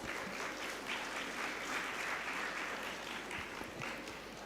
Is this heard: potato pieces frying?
no